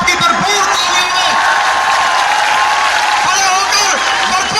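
Loud, dense crowd applause and cheering at a political rally, steady and sustained throughout with scattered whoops over the roar of clapping.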